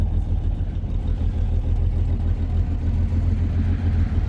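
A lowrider car's engine idles steadily while warming up, a low, even rumble, close by and continuous, with no voices.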